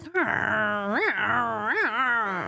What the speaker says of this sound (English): My dog is so bossy.